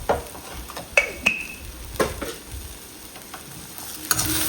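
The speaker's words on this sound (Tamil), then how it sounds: "கொஞ்சம் நம்ம லைட்டாக கரண்டியை வச்சு வெங்காயத்தை நல்லா வதக்குவோம்" Onions sauté with salt in a pan for a chicken gravy, a soft continuous sizzle broken by several sharp clinks and scrapes of a spoon stirring against the metal.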